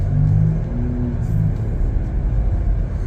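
A 2025 Chevrolet Blazer RS with a V6 engine on a test drive: a steady low engine and road rumble inside the cabin, with a slight rise in the first half-second, continuous and moderately loud.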